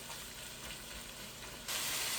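Ground beef stew simmering down in a pot, giving a steady soft sizzle and bubbling hiss that holds evenly and then brightens slightly near the end, faint and continuous with no talking.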